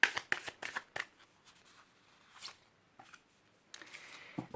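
Oracle cards are shuffled close by: a few quick papery riffles and flicks in bursts, separated by near silence, then a final flurry of card sounds.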